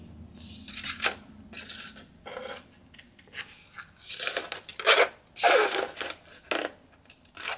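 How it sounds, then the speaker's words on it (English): Scissors snip through paper for a junk journal page in a quiet room, a series of short, close cuts spaced irregularly with brief pauses between strokes. "we're just going to make a little cut here and cut all the way across"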